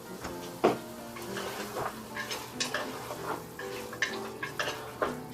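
Medium and small potatoes drop into a pressure cooker pot with chopped carrot already inside, giving a few soft clunks and stirring scrapes over a steady sizzle of frying.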